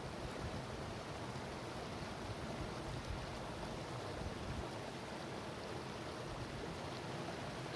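Steady, broad rushing roar of water pouring over the edge of McCloud Falls near Mt Shasta, constant and unbroken with no voices.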